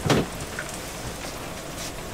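Pouring rain falling steadily near the shore while anchoring a small boat, a continuous close patter with a brief louder thump at the start.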